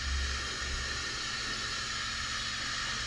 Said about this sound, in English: As the jets of steam are forced from the bottle,